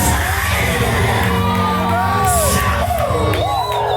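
A crowd at an outdoor Christian evangelist meeting shouts, whoops and cheers continuously and loudly, with high excited cries rising over a dense roar throughout.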